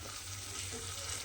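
Bitter gourd dish sizzling in a pan with raw mustard oil as it is stirred, a steady close frying hiss with faint scraping, no voices.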